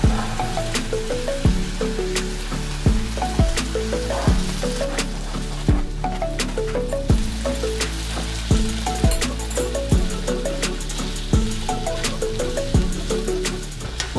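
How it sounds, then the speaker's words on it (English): Chicken, onion and bell pepper sizzle steadily in a frying pan, with regular clanks and scrapes as the food is stirred every second or so. "So while the chicken is like frying in the pan, I'm gonna add the onion and the bell pepper."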